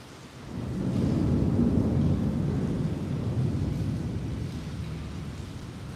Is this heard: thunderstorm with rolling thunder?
yes